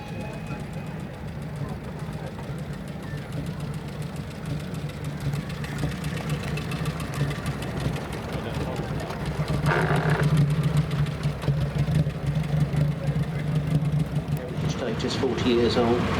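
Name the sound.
Royal Enfield motorcycle engine idling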